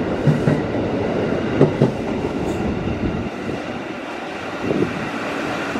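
A 12-car commuter train from Jakarta Kota to Bogor rumbles past at Manggarai Station with rhythmic clickety-clack of wheels over rail joints, close by, with wind buffeting the microphone.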